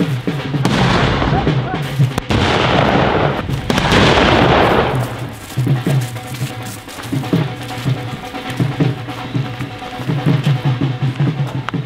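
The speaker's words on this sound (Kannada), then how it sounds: "ಪಟಾಕಿ ಹೊಡಿತೀವಿ." Firecrackers burst outdoors to drive away elephants, a string of loud, close pops and booms crowding the first few seconds, then fainter scattered bangs, with voices talking through the later part.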